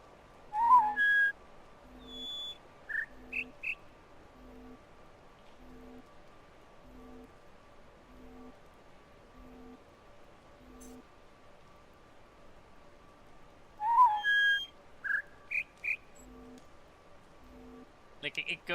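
A person whistles short bird-like call phrases mimicking a little bird from a PC game, two bursts of chirpy notes separated by a long quiet stretch over a steady low electronic hum and faint rhythmic background pulses.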